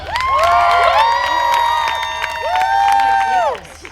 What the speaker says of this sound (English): So please give it up to Lauren Oliver.